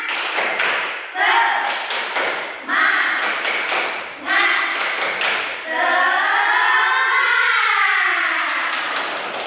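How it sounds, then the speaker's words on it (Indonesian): Classroom 'tepuk semangat' spirit clap, a group of students clapping in short rhythmic bursts of taps and thuds, with chanted voices joining in and a long sustained group shout near the end. "Boleh Ibu tes tepuk semangatnya dulu? Tepuk semangat."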